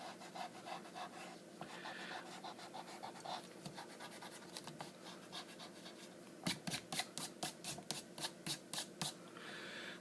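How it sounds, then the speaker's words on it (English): Pencil drawing being erased with an eraser on paper, a steady rubbing and scratching that turns into a quick run of brisk back-and-forth strokes near the end, close and alone. "so I'm going to erase this part in the inside part of her body"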